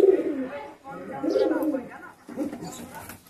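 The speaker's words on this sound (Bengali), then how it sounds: "মালবাই আর টেডি পায়রা ছাড়া অন্য কোনো পায়রা নেই" Malbai and Teddy pigeons cooing in a loft, soft low throaty coos in a few rolling phrases, close by, with a voice talking faintly underneath.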